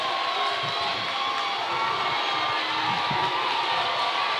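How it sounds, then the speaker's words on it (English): A crowd cheers and roars steadily at a boys varsity high school basketball district final as Fort Calhoun fans rise to their feet, a loud sustained wash of voices and whoops filling the gym. "This is the closest Fort Calhoun has been in quite some time, and their crowd is all on their feet now"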